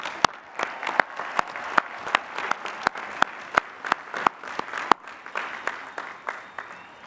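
Commencement audience at Lehigh University applauds Bachelor of Science degree recipients; continuous crowd clapping, with one loud nearby clapper standing out in a regular, evenly spaced beat over the rest.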